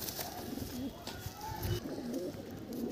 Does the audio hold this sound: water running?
no